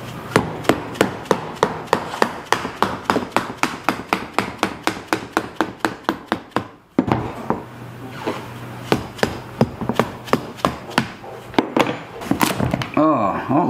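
Rapid, regular heavy chopping thuds of a hatchet striking a pumpkin, about two per second, then a brief pause and more irregular hard strikes, close and loud.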